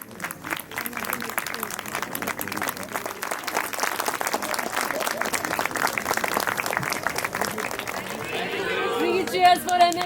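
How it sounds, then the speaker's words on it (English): Audience applause for the Nainital Literature Festival team at the festival, dense continuous clapping mixed with crowd chatter, building in volume toward the end as voices rise over it. "And can we have a big round of applause for the team?"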